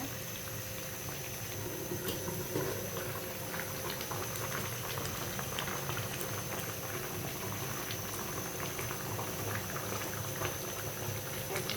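A pot of vegetable curry seasoned with cumin powder bubbles at a steady boil on a home kitchen stove, a constant close simmering and popping that carries on alone throughout.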